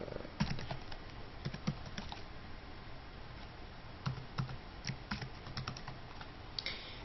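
Steady, fairly quiet typing of a first name on a computer keyboard, with a dense run of light key clicks and a few sharper taps, heard alone with no voices.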